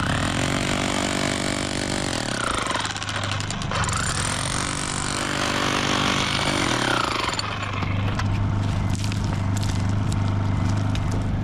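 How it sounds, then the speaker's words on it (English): A jackhammer breaks up rock during agate hunting, a loud, harsh continuous rattling hammering with an engine drone, shifting in pitch and load as it works, close and sustained throughout. "when you're using a jackhammer like that"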